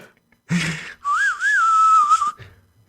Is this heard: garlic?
no